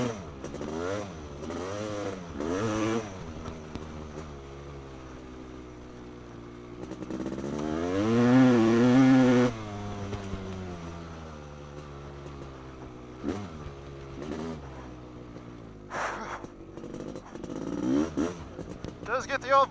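CR500 motorcycle with a two-stroke engine, heard as a nearby buzzing rasp that climbs and falls in pitch several times, with one louder, sustained high rev partway through and a voice speaking over parts of it.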